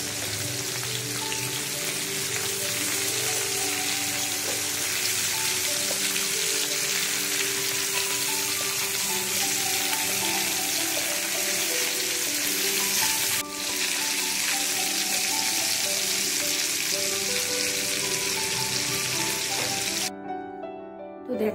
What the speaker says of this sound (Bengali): মাছগুলো একবার ভাজা হয়ে গেছে এবার আমি এগুলোকে উল্টে দেব